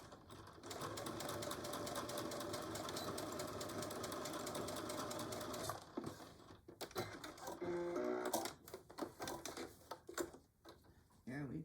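A home sewing machine back stitches a Betty Boop pillow cover, a steady rapid mechanical whir that breaks midway into short stop-start bursts of stitching.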